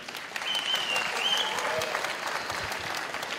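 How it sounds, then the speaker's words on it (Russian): Audience applauding after a women's fight at a WwFC 18 event in Kiev, with steady sustained clapping and crowd noise filling the hall. "Аплодисменты им!"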